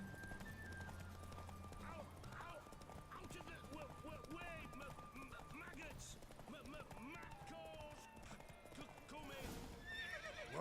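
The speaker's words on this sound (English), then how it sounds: "Whoa there, Roach." Horse hooves clip-clop rhythmically in The Witcher video game, with a horse neighing and other game sounds, while a player talks over it.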